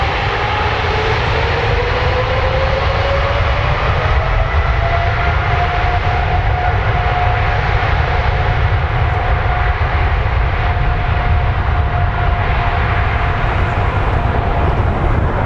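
An airliner takes off from runway 23 at Toronto Pearson, its engine roar steady and loud throughout, with a whine rising and settling in pitch as it powers down the runway.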